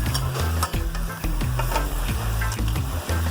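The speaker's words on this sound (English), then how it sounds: "Stirring a little bit." Lao curry with fresh Maryland crab being stirred in a pan, a steady loud sizzle broken by repeated scraping strokes of the utensil, with a low hum running underneath.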